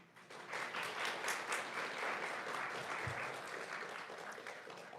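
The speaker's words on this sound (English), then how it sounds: "I just want to ask if we can hold our applause till the end" Audience applause at a mayoral and council candidate forum in Park City, a steady wash of many hands clapping that holds fairly loud for about five seconds with no talking over it.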